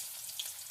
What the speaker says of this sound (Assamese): মই আগতে পিঁয়াজখিনি ভাজি ল'ম